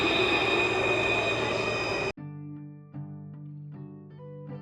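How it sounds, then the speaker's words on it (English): Tram pulling away on a Sunday in Victoria, a loud broadband rumble of wheels and motor for about two seconds that cuts off abruptly, followed by quieter steady tonal hum. "So I left early to get this tram. That's just driving away."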